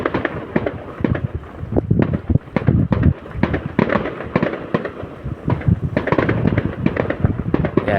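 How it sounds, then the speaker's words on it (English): Fireworks burst across the New Year's Eve sky in Denmark, a dense, continuous barrage of sharp bangs and crackling pops from many directions, some near and loud, others distant, with no talking. "Danish people love fireworks."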